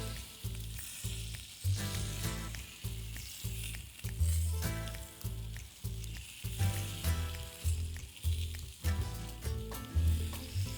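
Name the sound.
seared bacon sizzling on the smoker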